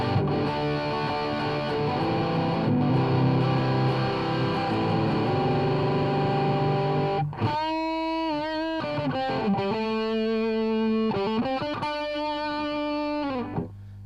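Electric guitar played through a Boss DS-2 distortion pedal with its single tone knob fully up, loud saturated chords ringing at first, then a run of choppy, rhythmic distorted strums with sharp attacks.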